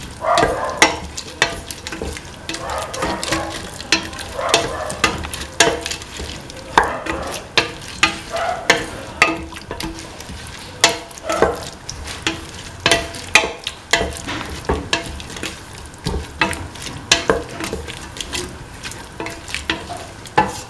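Lentils sautéing and being stirred in a pan for a bell pepper coconut milk stew, with steady close sizzling and repeated scraping stir strokes throughout, no talking.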